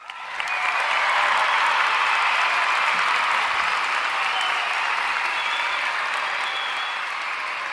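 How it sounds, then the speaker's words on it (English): Studio or small audience applause, a dense steady clatter of many hands that starts suddenly and holds evenly for several seconds, fairly close and loud, slowly easing toward the end. "Round of applause for Mr."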